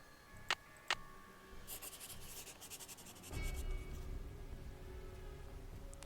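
A pencil rubs across paper to make a sketch in the 2005 Nancy Drew game Last Train to Blue Moon Canyon, giving soft, close scratchy strokes that follow two sharp clicks and then thicken into a steadier rubbing hiss.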